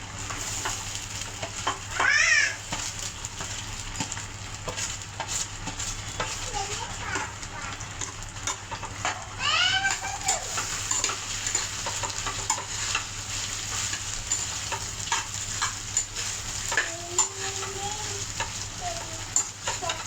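Okra frying in hot oil in a wok, a steady loud sizzle with stirring scrapes running throughout and a few brief high squeaks from the pan, no voices heard.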